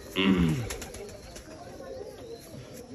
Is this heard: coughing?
no